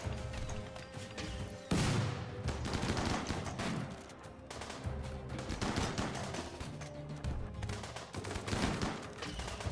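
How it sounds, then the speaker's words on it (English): Assault rifle gunfire in RimWorld: rapid, dense bursts of shots crackle continuously throughout, overlapping into a busy fusillade of fairly quiet, distant-sounding fire with no pauses. "The assault rifle."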